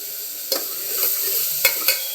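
Tomatoes hit a hot pan and sizzle steadily while a spoon stirs them, giving several sharp scraping clacks over the frying hiss.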